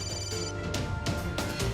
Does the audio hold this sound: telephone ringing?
yes